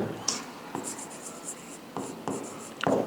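Chalk or marker scratching out an equation on a board, a few soft strokes and taps close up over a faint room hiss, with no voice.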